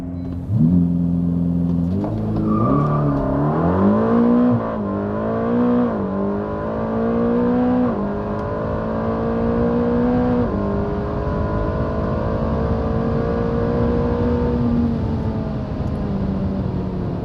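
A 2020 Ferrari Roma GT engine revs with a deep, muffled tone, the pitch climbing and stepping up through several rises before settling into a steady, strong drone, loud and close with no talk.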